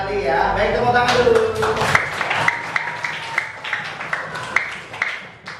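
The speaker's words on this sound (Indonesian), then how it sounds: "tepuk tangan dulu" Schoolchildren clap their hands in a classroom, a run of sharp, fairly regular claps following a voice at the start, close and moderately loud.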